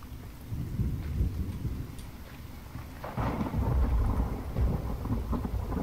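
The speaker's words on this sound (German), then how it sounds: "Das Gewitter hört sich so mega gut an, dass es mir schon fast ein bisschen Angst macht." Thunderstorm in the video game The Infected: steady heavy rain with a deep rolling thunder rumble that swells louder midway and lingers.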